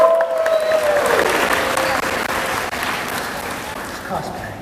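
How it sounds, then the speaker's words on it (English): Steady applause from a convention crowd at a cosplay halftime show, rising quickly and holding loud and dense for several seconds as the audience cheers a magician's assistant. "give him a round of applause."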